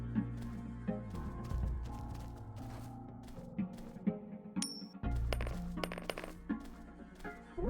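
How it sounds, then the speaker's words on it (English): A coin drops and clinks on the ground in the stealth video game UNMETAL, several bright metallic ringing hits standing out over low game music and ambience. "Hey, a coin!"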